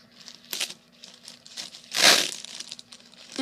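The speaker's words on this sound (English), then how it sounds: "the paper is a little loud" Paper wrapper on a sanitary pad crinkles in loud bursts, with a strong crackling rush near the middle between softer rustles, close up and without talk.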